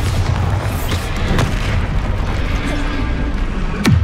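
Bombarda spell explosions in Hogwarts Legacy, a loud rumbling boom with crashing bursts and a sharp blast near the end, dense game combat noise throughout.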